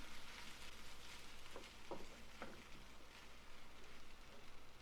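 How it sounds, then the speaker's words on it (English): Vegetables, including corn kernels, stir frying in a pan, a faint soft sizzle with a few light scraping stirs. "And you keep stir frying over here."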